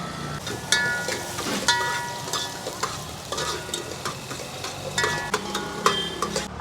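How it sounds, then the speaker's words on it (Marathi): Onions frying in a pan with whole spices for Kolhapuri white rassa, sizzling steadily while being stirred with frequent scraping clinks, moderately close. "आपणही आपल्या पांढऱ्या रस्स्यामध्ये कांदा टाकणार आहोत"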